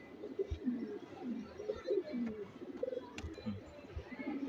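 Large racing pigeons gathered for a long-distance pigeon tournament coo in low, repeated throaty bursts, moderately faint and close by, over a soft background murmur.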